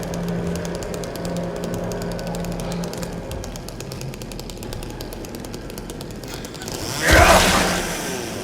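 A chainsaw in the Silent Hill 2 remake video game buzzes and rattles steadily at moderate volume, then surges into a louder, harsher burst near the end.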